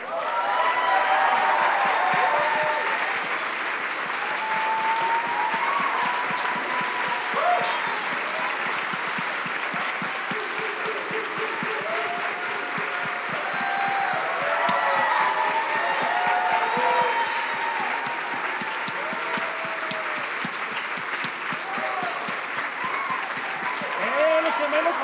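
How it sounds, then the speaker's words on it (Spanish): Sustained, loud applause from a conference audience at the Pixelatl 2022 festival, honoring the Cinema Fantasma team, with scattered cheers and crowd voices running steadily through the whole stretch. "Quiero que el equipo de Cinema Fantasma se ponga de pie y le den un aplauso"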